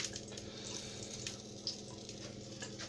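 Onions and mushrooms fry in a pan with garlic for a vegetarian breakfast, giving a soft, steady sizzle with faint crackles and a few small clicks throughout, fairly quiet and with no voices.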